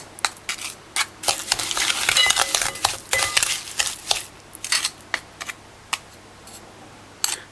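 Banana bread batter being mixed with a Jamaican-style spoon, giving a series of irregular wet scraping and slapping strokes, close and fairly loud, with no talk.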